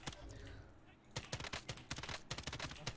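Rapid bursts of automatic gunfire from the Call of Duty: Warzone video game, loud and close, cutting in after a brief quieter stretch and continuing in dense volleys.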